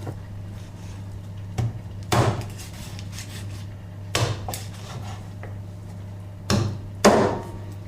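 Rabbit being butchered on a cutting board: about six sharp knife or cleaver chops, spaced irregularly, thud against the board over a steady low background hum.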